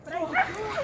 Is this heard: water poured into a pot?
no